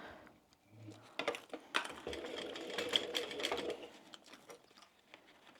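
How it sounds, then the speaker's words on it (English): A sewing machine stitches down a seam on a small crossbody wristlet bag, quiet bursts of rapid mechanical clatter starting and stopping. "we're going to sew down that seam with the same seam allowance"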